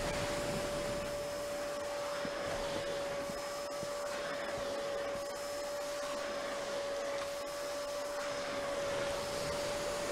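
Vacuum cleaner in the video game Ship Graveyard Simulator, a loud steady motor whine with a sustained tonal hum that runs unbroken for the whole stretch, no talking over it.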